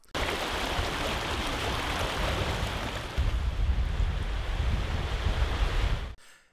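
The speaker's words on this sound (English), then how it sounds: "enjoy the wonderful sound of Pedernales River." The Pedernales River at Pedernales State Park in Texas rushes past in a constant, loud broadband wash of flowing water, steady for about six seconds before cutting off abruptly.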